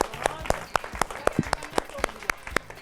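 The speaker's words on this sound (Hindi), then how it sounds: "जोरदार तालियां तो बनती हैं।" Scattered, sparse hand claps in a loose irregular rhythm follow a stick-breaking martial performance, with a faint murmur of voices beneath.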